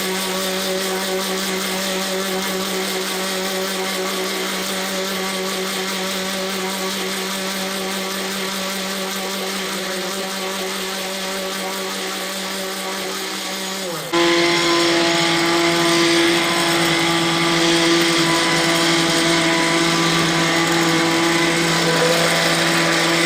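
A kitchen blender runs steadily with a loud, even motor whine as oil is trickled in to make restaurant-style mayonnaise for shawarma; partway through, the motor pitch jumps higher and louder and holds there to the end.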